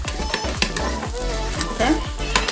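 A vegetable pancake with spinach sizzles and crackles steadily in a hot pan as it is flipped, with repeated low thumps and scraping of the spatula through continuous frying noise.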